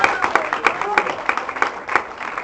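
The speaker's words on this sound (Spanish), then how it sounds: "Den un aplauso al Señor, hermano." Church congregation applauding for the Lord, brisk scattered clapping from a small group with a pastor's voice speaking over it.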